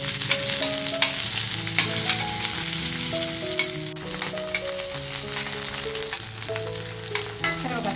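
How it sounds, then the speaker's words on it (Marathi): Mutton fat sizzles steadily in a hot pan while being rendered for tandoori mutton chops, with a dense, continuous crackle under background music. "बघा चरबी आहे ना थोडीशी तिची फ्राय करून घेणार आहे"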